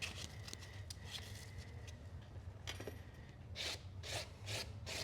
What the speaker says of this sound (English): if you wrap it around a hard surface like this stick here, the sandpaper, and this is some 320 here that I'm using.